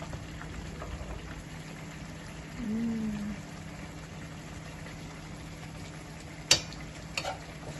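Serundeng, spiced grated coconut, fries in a pan while being stirred, giving a steady soft sizzle like light rain with a few sharp clinks of the utensil against the pan.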